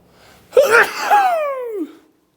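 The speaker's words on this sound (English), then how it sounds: "I have to sneeze." A single loud sneeze, a sharp gasping intake followed by a long, bright explosive burst that fades over about a second, close to the microphone during a math lesson.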